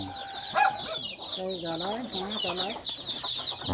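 Chickens cluck repeatedly in short, faint bursts, with broken chattering calls layered over quiet background noise.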